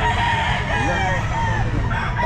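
Several roosters crow loudly and close together in overlapping calls at the Grotto pet market, a crowded Sunday bird-selling spot, with chatter from people mixed in underneath.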